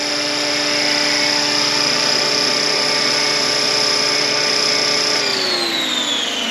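An RC scale Bell Huey model helicopter hovers nearby with a loud, steady high-pitched whine of motor and rotor, and the pitch slides downward near the end as it throttles back.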